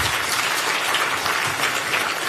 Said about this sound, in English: That deserves a big hand clap.